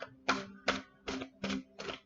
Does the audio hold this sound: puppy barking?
no